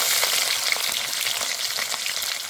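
Garlic and whole spices such as cumin fry in hot oil, sizzling with a dense, steady, close crackle for the whole stretch and no voice over it.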